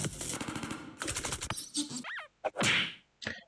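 Gunfire from The Henry Stickmin Collection game: rapid bursts of cartoonish shots and impacts, mixed with other quick game effects including a rising whistle-like tone, loud and up close.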